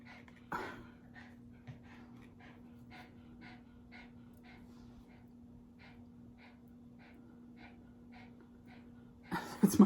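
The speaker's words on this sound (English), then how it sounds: "It's my dog, if you're wondering what that noise is." A dog pants in quick, rhythmic breaths at close range, a steady huffing series, ending with a sharp snort or shake at the very end.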